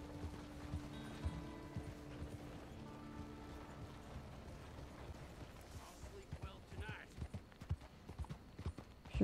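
Horse hooves clip-clop steadily in Red Dead Redemption 2, a rhythmic trotting patter with occasional creaks over a low ambient game soundscape, growing a bit louder toward the end.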